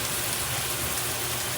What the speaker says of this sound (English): so you could just use the rain shower head